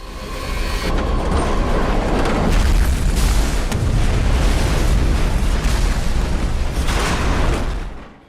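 A massive roaring blast of a Boeing 747 crashing into a hangar and exploding rumbles for several seconds, deep and heavy, swelling loudly and then cutting off abruptly.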